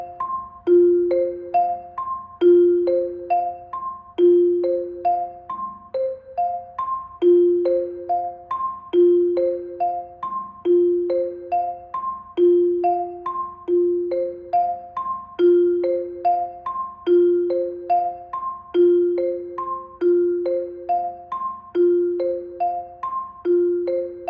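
Four-mallet permutation exercise on a mallet percussion instrument, clear bright bar tones struck alone in steady repeating four-note groups, each pattern cycling evenly with resonant decay for over twenty seconds.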